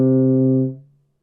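A single sustained low tuba note played through the mouthpiece in the horn, loud and steady with rich harmonics, then cut off so it fades quickly into silence.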